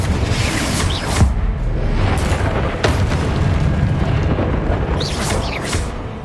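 A Confringo fire spell explodes in Hogwarts Legacy, a loud close booming blast with a rumbling roar that fills the whole stretch, sharp impacts breaking through the sustained low rumble.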